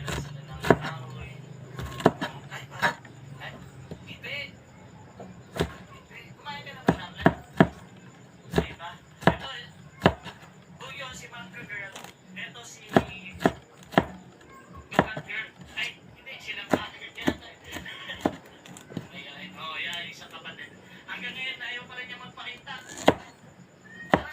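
Bamboo shoots are sliced with a knife on a board in a home kitchen, sharp irregular chops landing close and crisp, sometimes in quick bursts, with a voice now and then between the cuts.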